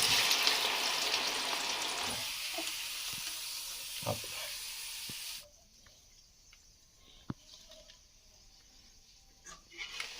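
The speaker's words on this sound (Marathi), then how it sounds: "तेल लगेच होईल मस्तपैकी चांगले एकदम ब्राऊन होईपर्यंत तळायचे कांदा कसा सोनेरी होईपर्यंत तळतात ना" Onions sizzling in hot oil until golden brown, a steady loud hiss for about five seconds that then drops to a quieter, thinner sizzle with a few small pops and clicks.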